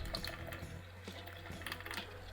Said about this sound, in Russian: Сначала смачиваю смеситель водой